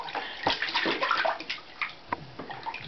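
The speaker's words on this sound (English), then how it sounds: "That's a good splash." A child splashing and sloshing water in a bathtub, a series of irregular splashes and drips, fairly close, with no talking.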